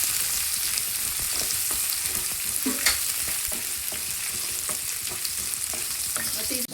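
Sprouted horse gram masala with cloves frying in a hot pan, a steady close sizzle broken by light stirring clicks and scrapes, with no voices.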